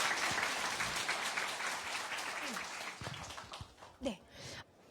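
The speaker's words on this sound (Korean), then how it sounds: "박수 한번 주세요." A seated audience at a lecture claps in a steady, fairly loud round of applause, with a voice briefly talking over it near the end.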